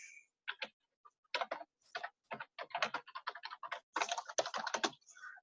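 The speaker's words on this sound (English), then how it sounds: "So let's type in this company's name." A company name being typed on a computer keyboard produces a quick, irregular run of crisp, close key clicks with short pauses between bursts.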